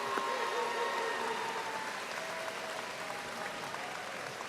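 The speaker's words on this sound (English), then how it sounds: "All right, everybody wants to clap." Steady applause from a large audience fills an indoor university commencement ceremony, a dense, even patter of clapping that carries on without break at a moderate distance.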